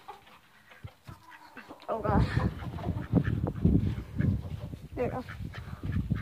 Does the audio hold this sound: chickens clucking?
yes